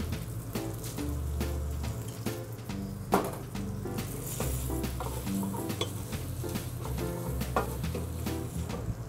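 Food sizzles and fries loudly in a hot pan as it goes back on the heat. The steady crackle is broken by stirring and scraping knocks, with no talk over it.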